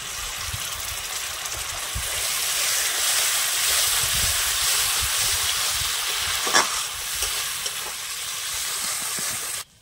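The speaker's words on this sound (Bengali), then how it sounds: "এখন এগুলো আবার ভালোভাবে কষিয়ে নেব।" Jackfruit curry with dry spices and a splash of water being stir-fried in a pan, giving a steady close hiss and sizzle with a brief louder scrape midway, no talking.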